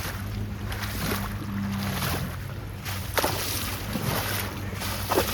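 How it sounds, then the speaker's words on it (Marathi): Fast-flowing floodwater rushes in a swollen river beside a submerged road, a continuous loud roar with wind buffeting and a few gusty bumps. "हा रोड, नदी बघा किती स्पीड पाणी आहे बघा"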